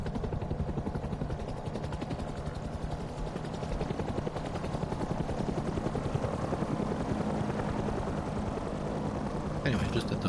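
A video-game helicopter gunship thrums with a steady, rapid rotor chop at close range, a continuous throbbing drone that holds for the whole stretch, with a brief burst of higher noise near the end.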